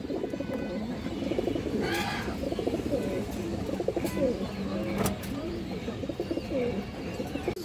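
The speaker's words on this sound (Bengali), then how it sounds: "একজোড়া সাপচিলা কবুতর" A pair of Sapchila pigeons coo in a steady, low, rolling murmur close by, with soft chirps and a few faint sharper bird calls over a constant background hum.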